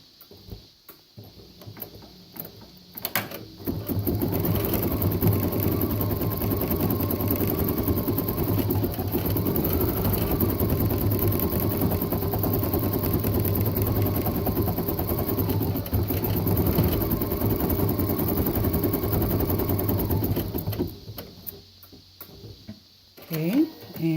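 A sewing machine stitches a flower design, running as a steady, fast mechanical whir for about seventeen seconds with a few brief pauses, starting and stopping near the ends; a voice talks over it.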